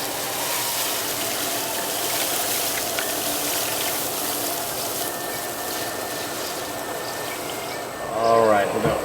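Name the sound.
pouring white wine and marinade juices into a pan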